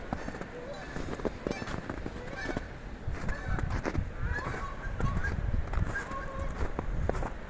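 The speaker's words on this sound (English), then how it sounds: "Got some geese saying hello." Geese honk by a canal lock at Jim Thorpe, Pennsylvania, with scattered calls rising over steady outdoor background noise and a faint murmur of talk throughout.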